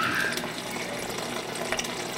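Water runs steadily from a Whirlpool/Kenmore refrigerator dispenser into a one-gallon container as a new EveryDrop filter is flushed, producing a continuous close hiss and trickle with no talking.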